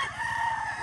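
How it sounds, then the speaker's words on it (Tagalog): A rooster crows loud and close among a flock of chickens at a farm in Indang, Cavite, in one sustained, strained call. "ang daming manok, ang daming"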